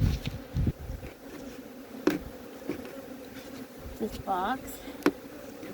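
Honey bees buzz around an open Flow Hive during a hive inspection, a steady insect hum with brief louder passes near the microphone, while a person talks now and then over it.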